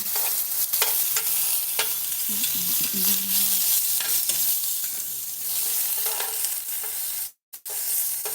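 Onions sizzle steadily in a hot pan, with occasional stirring scrapes and clatters over the continuous frying hiss.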